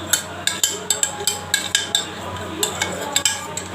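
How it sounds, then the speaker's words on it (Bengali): A spoon beats set curd in a bowl, rapid rhythmic clinks and scrapes of metal against the dish, close and fairly loud, repeating steadily throughout. "দইটা একটু কেটে নিলাম। দইটা মেখে ভালো করে"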